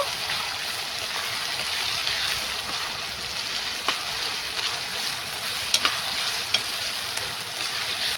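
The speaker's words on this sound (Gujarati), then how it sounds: "આ વઘારમાં ડુંગળી આપણી એકદમ સરસ ગોલ્ડન બ્રાઉન જેવી થવા આવે ને ત્યાં સુધી ડુંગળીને સરસ સાંતળવાની છે" Chopped onions sautéing in hot oil as a tempering for Visnagar-style tuver totha, a steady close sizzle and hiss throughout with a few faint stirring clicks and no talking.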